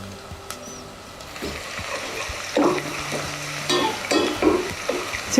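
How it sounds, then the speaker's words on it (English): Thinly sliced ingredients sizzle gently in oil in a pan on low heat, a soft continuous crackle punctuated by a few brighter pops and occasional stirring clatters, close and unaccompanied by voices. "Now I can hear it sizzling."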